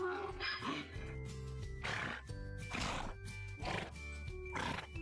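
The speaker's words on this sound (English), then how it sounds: "it's almost like a pitched up donkey recording." A high-pitched, sped-up-sounding donkey bray in a game physics simulation, a series of loud, strained braying calls repeating over several seconds with brief gaps between them.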